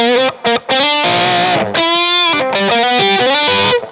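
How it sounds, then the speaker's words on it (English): Electric guitar played through a GOAT Rockman-style analog distortion pedal set to its lowest distortion, giving a few sustained, gently overdriven chords with short gaps between strums, loud and close. "And here is the lowest amount of distortion."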